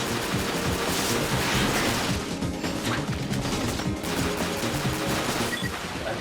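Gunfire and a grenade blast from combat in the video game The 3rd Birthday, a dense, loud barrage of shots and crashing impacts that runs for the whole stretch with no voices over it.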